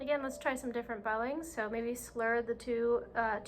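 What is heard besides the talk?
No distinct noise like a dog, phone or traffic.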